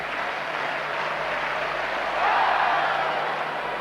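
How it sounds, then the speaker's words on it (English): Athletics stadium crowd at a 1986 European Championships javelin event clapping steadily, a broad continuous wash of applause that swells slightly midway, heard alone without talk. "The same clapping that they're giving to the West German girl."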